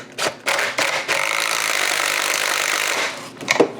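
An impact driver fastens a nut on a Hyper Tough H25B leaf blower, with a few short bursts and then a sustained rattling hammering run of about two seconds, followed by more brief bursts, close and loud, no talking.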